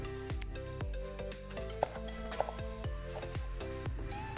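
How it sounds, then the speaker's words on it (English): A knife taps rapidly and evenly on a cutting board finely dicing an onion, a brisk chopping rhythm with a soft crunch to each stroke. "finely dice 1 medium onion"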